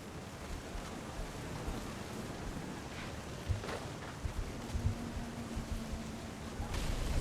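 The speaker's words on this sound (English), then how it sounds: "Thunder sounded much too close." Steady rain hisses throughout a thunderstorm scene in the video game What Remains of Edith Finch, with a few soft low rumbles and thuds, fairly faint and continuous, no voices.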